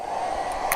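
A blow dryer runs with a steady, even whir throughout a short stretch, close and moderately loud, with a couple of faint clicks near the end.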